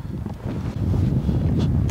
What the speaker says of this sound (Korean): 바람이 좀 막 세지면서 지금 추워요.